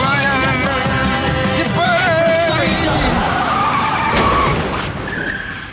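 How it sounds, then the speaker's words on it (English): Tires screech and skid in a long rising squeal as a car is driven to smash itself up in a scene from The Wire, with engine noise and a voice over the skid. "This scene where McNulty takes two goes to smash up his car."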